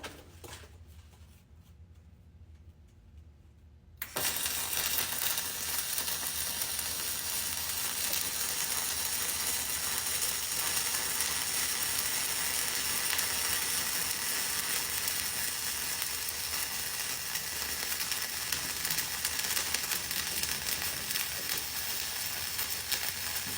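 Flux-cored arc welding with the tip held very close to the metal: after a few quiet seconds a loud, steady crackling buzz starts and runs unbroken to the end.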